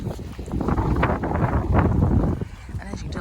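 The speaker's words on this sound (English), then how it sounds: "as you can tell, it's a windy day" Gusty wind at Edisto Memorial Gardens in Orangeburg County buffets the microphone in low rumbling bursts, with a voice speaking underneath.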